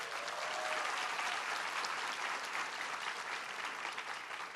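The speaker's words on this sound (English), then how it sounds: "Give them a big round of applause." A large town hall audience at Taylor's University in Malaysia breaks into sustained applause, dense even clapping from many hands that holds steady and eases slightly toward the end.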